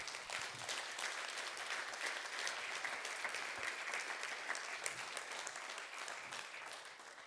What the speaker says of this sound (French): qu'on peut applaudir, je crois